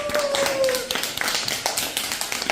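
Applause and clapping for first-grade pupils at a Navruz school celebration, a dense run of claps lasting a couple of seconds and close to the microphone, with a brief tonal whistle-like sound early on.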